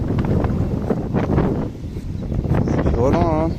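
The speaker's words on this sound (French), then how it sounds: "là il y a beaucoup de vent" Strong wind buffets an open fishing spot by the water, a steady broadband rush and roar throughout, with someone talking over it.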